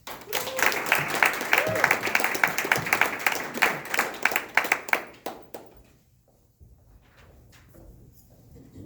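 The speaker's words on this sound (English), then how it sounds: "please, an extra round of applause to thank Jay's Pharmacy for sponsoring this kickoff event" An audience at a community kickoff event bursts into a round of applause, many hands clapping loudly for about five seconds before it thins out and fades to quiet room noise.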